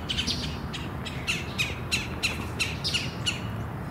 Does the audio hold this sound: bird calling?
yes